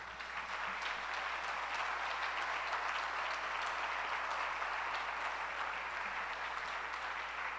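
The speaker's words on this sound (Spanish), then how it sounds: "Dele fuerte ese aplauso al Señor." A church congregation claps together in steady, sustained applause that stays even throughout, heard from across the room.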